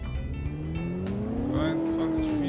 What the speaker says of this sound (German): Ich finde das eigentlich ganz geil, wie der beschleunigt.